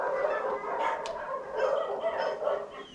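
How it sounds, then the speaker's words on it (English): A couple of dogs bark and yip on a front porch of a mansion in the rain, heard at a moderate distance with a steady noisy background. "I left a couple of dogs on the front porch."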